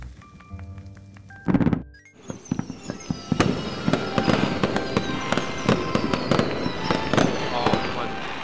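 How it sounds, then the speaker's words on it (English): Fireworks celebration in the VR game Little Planet, with a rising whoosh, then a dense run of crackling bursts and sharp pops, loud and rapid, with sparkling fizz trailing between them. "let's celebrate your upcoming new life with some fireworks."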